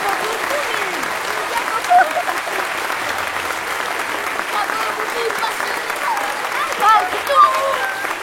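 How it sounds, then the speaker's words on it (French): An audience claps steadily and warmly for children after a concert of singing and readings, the dense applause running throughout with a few louder peaks and voices mixed in. "On les applaudit encore un peu?"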